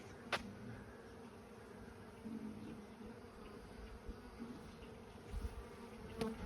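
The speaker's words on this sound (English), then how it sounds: "There's thousands of bees here, but from 100 nukes, it's not really that many, but enough to take notice." Honey bees from about a hundred nucleus colonies buzzing around an outdoor apiary, a faint continuous drone with occasional individual bees passing close by, no talking.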